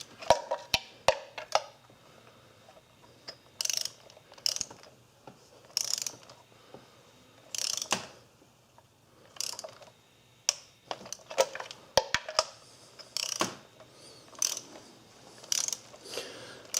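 Intermittent ratcheting clicks from a torque wrench tightening cylinder head bolts on a Suzuki Forenza, short bursts separated by pauses, close and moderately loud.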